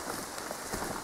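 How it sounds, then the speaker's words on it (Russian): Heavy rain begins in a pine forest, a brief dense hiss of drops pattering on foliage and ground. "То дождь начался"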